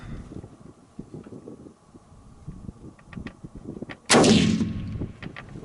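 A single sharp, loud shot from a Weatherby Black Hills rifle being sighted in outdoors breaks through quiet, wind-brushed ambience and rings out in a long decaying tail.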